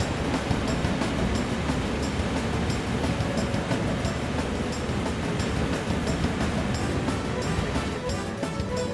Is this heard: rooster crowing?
no